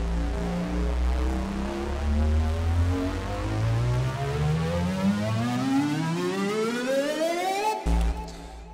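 A synth FX riser made in Cubase's Retrologue sweeps smoothly upward through four octaves, a loud, steady buzzy tone climbing for about eight seconds before cutting off abruptly, with no talking.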